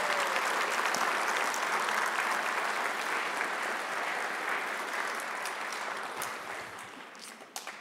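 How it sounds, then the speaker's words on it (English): Sustained applause from a large crowd at a college graduation ceremony, steady and dense clapping that gradually thins toward the end. "So a big round of applause, please, for the faculty and staff"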